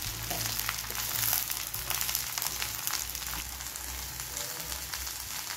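Cluster beans and onions frying in a pan make a continuous close sizzle with faint crackles and stirring scrapes, and no voices are heard.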